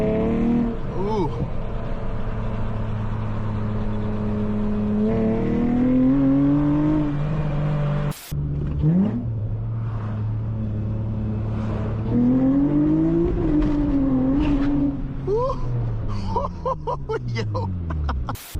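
A loud V6 Honda Accord engine revs hard and accelerates on city streets, its pitch repeatedly climbing and dropping across shifts. Heard close from inside the car, with people talking and laughing over it.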